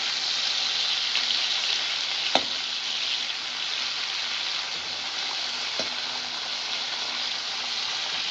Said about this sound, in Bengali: চিংড়িটাকে অবশ্যই হালকা করে ভাজবেন